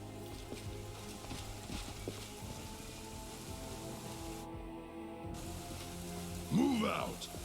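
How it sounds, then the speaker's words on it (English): Rain falls steadily as a constant hiss through the blood rain scene in Pathfinder: Wrath of the Righteous, a fantasy role-playing game, with low musical tones underneath and a brief vocal sound near the end. "Blood rain."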